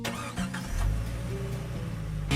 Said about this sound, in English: turn the ignition